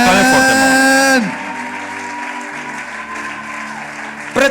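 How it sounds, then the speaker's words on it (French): A church congregation applauds loudly at a sermon. Dense clapping and cheering fill the first second, then fade to a quieter murmur, with a brief burst again at the very end. "Acclamez très fortement"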